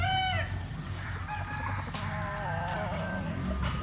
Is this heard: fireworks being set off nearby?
no